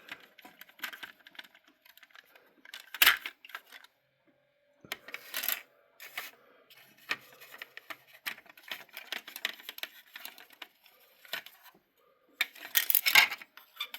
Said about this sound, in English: This is the chassis. Let me start taking this apart.